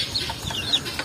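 Free-range chickens clucking, a few short, close clucks and soft bird calls in a quick burst over low farmyard background.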